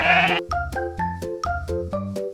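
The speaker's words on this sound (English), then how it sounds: "It's a sheep." A sheep bleats repeatedly, about six wavering, nasal calls in a steady rhythm, loud and close with nothing else heard.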